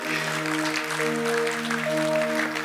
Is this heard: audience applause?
yes